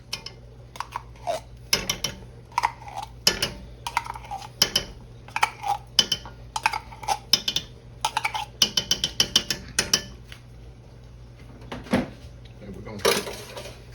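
Spaghetti meat sauce being stirred in a pot as tomato paste is worked in, with repeated sharp utensil clanks and scrapes against metal in uneven bursts while a person talks over a low steady hum.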